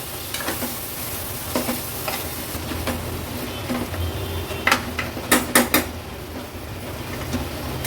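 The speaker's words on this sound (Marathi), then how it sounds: "आता आपण ह्याच्यामध्ये स्वच्छ धुतलेलं हे मटण ॲड करूया मटण मसाल्यामध्ये मिक्स करून घ्यायचं आहे" Washed mutton is stirred into sizzling masala in a pressure cooker for an Agri Koli mutton thali, with a steady fry under repeated scraping and clinking spoon strokes that cluster near the end, and no voices.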